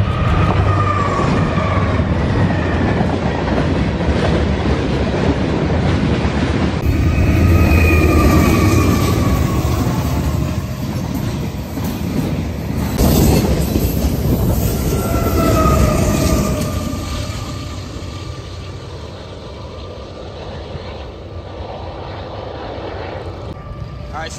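A ballast train rumbles loudly past with grinding wheels and screeching metal tones, then fades into the distance.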